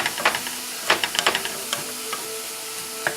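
Onion and garlic sweating in a pan for Bolognese sauce give a soft, steady sizzle, broken by a few sharp stirring clicks near the start and end, with no talking.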